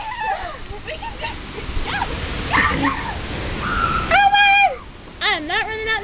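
Rain falls steadily as a dense hiss, while dogs yip and whimper in high, rising calls, and a voice talks over it.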